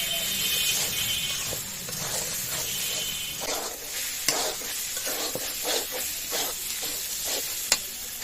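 Chicken frying in a pan with spice paste, a dense sizzling hiss broken up by scraping stirring strokes and a couple of sharp clacks, close and loud, with no speech.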